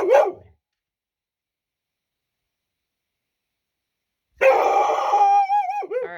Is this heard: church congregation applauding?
no